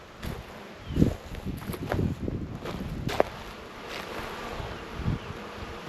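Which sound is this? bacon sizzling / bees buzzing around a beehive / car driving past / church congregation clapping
bees buzzing around a beehive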